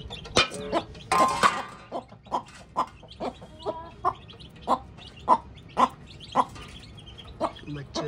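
Chickens cluck in a series of short, sharp calls spaced about half a second apart, close by, with a brief burst of squawking near the start.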